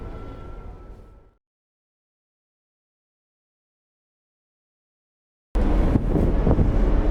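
Wind buffets the microphone aboard the Blue Petite, a ship sailing to Newfoundland, as a loud rushing roar that drops out into a long silent gap and then returns just as strong.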